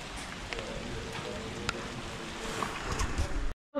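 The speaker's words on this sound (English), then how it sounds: "Steady, steady rain." Steady rain falls as an even, continuous patter with scattered louder drops, fairly close, before cutting off abruptly near the end.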